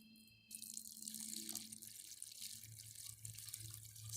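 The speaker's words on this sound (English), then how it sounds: "Okay, just pour it right down the middle here." Water is poured down the middle of a small tabletop erosion model, starting abruptly as a steady, hissing trickle and splash that runs on quietly and continuously at close range.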